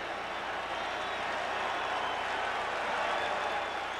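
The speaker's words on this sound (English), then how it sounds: "even the Rangers fans behind the dugout applaud this as Cabrera comes back to the bench" Rangers fans at a 2011 ALCS baseball game applaud behind the dugout, a steady far-off wash of clapping and crowd noise that runs evenly throughout with no distinct voices.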